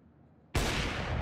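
A single loud gunshot bursts in after a quiet low murmur, its sharp blast filling the sound and holding as a dense roar to the end, from the video game Counter-Strike during an ESL Challenger match between paiN and Legacy.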